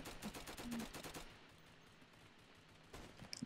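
Roblox flag-wars minigun fire, a rapid burst of loud, rattling shots for about a second, then quieter game ambience before a few more sharp pops near the end.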